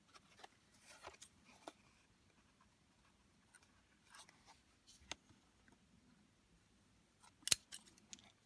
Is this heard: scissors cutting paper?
yes